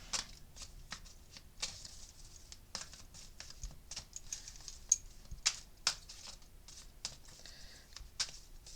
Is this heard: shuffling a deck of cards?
yes